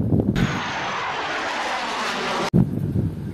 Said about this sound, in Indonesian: Ada pesawat tempur.